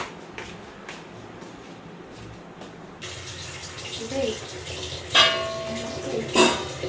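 Tap water runs into a cooking pot being filled for rice in a home kitchen, a steady hiss that grows louder partway through, with a few clanks of the pot.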